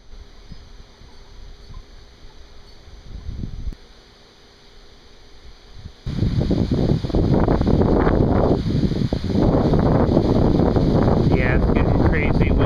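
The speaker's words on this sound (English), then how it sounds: "it's getting crazy windy right now" Strong wind during a severe thunderstorm at night, first a quieter rumble, then a sudden loud, sustained roaring gust battering the microphone.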